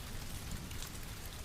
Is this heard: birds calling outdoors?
no